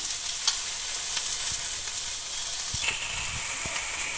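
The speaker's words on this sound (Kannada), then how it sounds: "ಇವಾಗ ಇಲ್ಲಿ ಎಣ್ಣೆ ಕಾದೈತೆ ಈಗ ಸಾಸಿವೆ ಹಾಕ್ತಾ" Mustard seeds crackle and sizzle in hot oil for a tempering, a continuous bright hiss with scattered small pops and light stirring, close and without talk.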